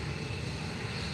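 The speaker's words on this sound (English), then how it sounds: "That's the Ryanair fancy 7800." Ryanair Boeing 737-800 airliner at Faro Airport, a steady continuous engine roar held at an even level throughout, with no voices.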